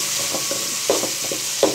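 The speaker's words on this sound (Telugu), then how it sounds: "అల్లం ముక్కలు అన్నీ వేసేసి" Ginger pieces frying in a pan for pesarattu upma, giving a steady close sizzle with a few soft scraping stirs and light clicks throughout.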